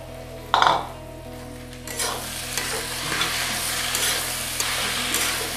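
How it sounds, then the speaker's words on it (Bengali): Tomato drops into frying ginger and garlic for chole, starting with a sharp splash and clink, then a steady close sizzle with intermittent stirring. "এখন আমি টমেটোটা অ্যাড করলাম"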